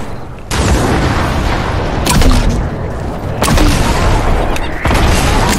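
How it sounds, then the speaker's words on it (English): Repeated booming blasts from a snowball launcher in the video game Fortnite, each a loud thudding burst of wide noise, three or four heavy explosions arriving close together with sustained rumble between them. "Snowball launcher!"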